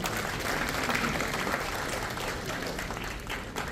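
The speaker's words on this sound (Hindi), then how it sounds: "जोरदार तालियां।" Applause at a sports award ceremony for a national table tennis championship, a continuous, fairly distant crowd clapping that stays even throughout.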